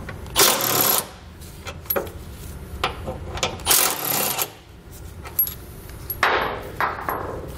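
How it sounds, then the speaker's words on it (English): A 15 mm socket on a ratchet works frame bolts loose on a 2018 Ford EcoSport, giving close, loud bursts of clicking and metallic clatter separated by quieter gaps. "grab yourself a 15 millimeter socket and pull those out"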